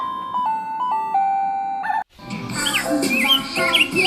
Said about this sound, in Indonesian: suara burung, suara ayam sudah memanggil kita